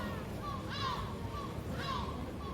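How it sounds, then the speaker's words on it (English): Seagulls squawk twice in a city street, harsh calls carrying from a short distance over low background noise and faint talk. "you can hear the seagulls chirping in the background"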